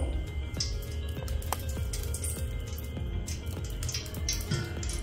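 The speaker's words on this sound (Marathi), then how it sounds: "तीन चमचे मी गाईचं तूप टाकलंय" Cow ghee going into a hot pot, a steady sizzle and soft crackle with scattered pops, close and continuous under faint kitchen background.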